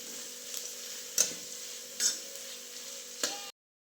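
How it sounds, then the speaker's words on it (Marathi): Onion roasts in a pan on a wood-fired chulha, a soft steady sizzle broken by three sharp scraping strokes spaced about a second apart, quiet and close, cutting off abruptly into silence. "कांदा चांगला भाजून घ्यायचा आहे"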